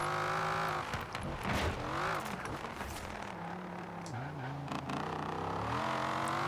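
Car tires squealing and skidding in the racing video game Forza Horizon 4, heard over a loud, constant engine roar whose pitch rises and falls as the car slides through corners; no talking.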